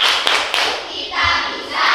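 Children clap the tepuk semangat chant together in a classroom, bursts of hand claps recurring through the stretch, moderately loud with a busy room behind.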